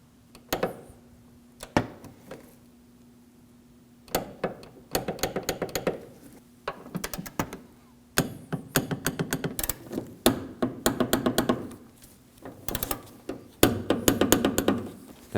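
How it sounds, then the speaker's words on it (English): Bolts on the hood hinges of a 2009-2014 Ford F-150 being torqued to spec with a torque wrench, heard as bursts of close metallic clicking and ratcheting in short runs separated by pauses, with occasional clanks. "Now we can torque these to 22 foot-pounds."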